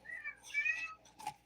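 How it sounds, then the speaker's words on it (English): A pet cat named Leo gives a few short, soft meows close by, quiet, high and chirpy, with small pauses between them. "Doesn't he have a cute meow?"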